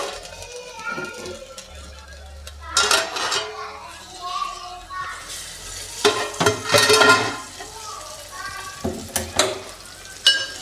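Egg curry sizzles in a pan while a utensil stirs and scrapes against the metal in irregular bursts, with a voice talking and a faint cat-like mew among the clatter.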